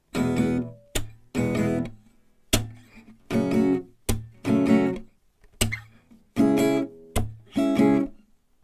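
Guitar chords of a progression are strummed in a steady pattern, each pair of strums punctuated by a sharp hand clap, repeating rhythmically and alone.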